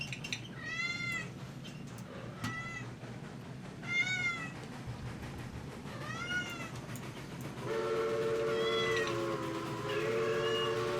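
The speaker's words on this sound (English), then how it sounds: "You can hear that little bit of warbling because the two frequencies on the whistles are just off a little bit." Two locomotive steam whistles in the game Railroads Online, slightly out of tune with each other, sound in short repeated blasts and then a longer held tone, producing a warbling beat over a low rumble of the engines.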